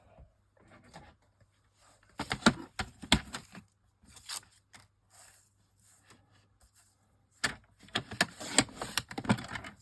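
Card for a handmade greeting card being cut in short bursts of crisp snipping and paper handling, close and fairly quiet, with pauses between strokes.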